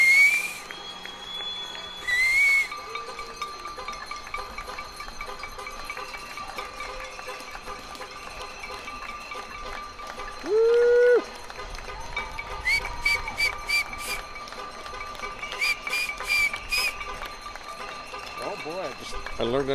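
A person whistling with more air and a wider embouchure, bright sustained pitched tones with some sliding notes, mixed with other background sounds.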